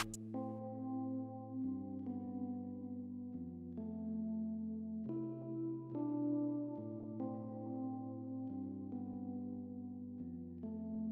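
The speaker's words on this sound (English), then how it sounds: "Next, I added some electric piano to layer them together." A quiet electric piano layer in a melancholic pain-style loop holds soft sustained chords, moving through a slow progression of changes every second or two without pause.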